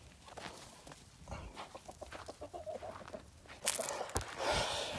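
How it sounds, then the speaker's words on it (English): Chickens cluck close by in short, uneven bursts, with rustling and a louder flurry of squawks near the end. "What are you doing, chickens?"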